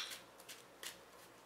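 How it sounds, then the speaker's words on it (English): Playing cards being shuffled at a tabletop game: a few soft, crisp riffling bursts, quiet and close, with no talking. "I've been shuffling a little bit."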